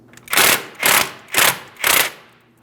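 An 18mm mounting nut on a 2005-2010 Chrysler 300 rear knuckle is worked loose with a wrench, giving four evenly spaced, close ratcheting bursts of roughly half a second each, with no talking.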